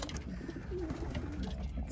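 Racing pigeons coo in a loft during the moult, a low, throaty, continuous cooing close by, with several birds overlapping against a steady background hum.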